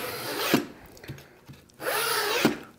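A hand saw cuts through a stack of wood veneer sheets in two long rasping strokes, with a few light knocks between them, close up and without talk.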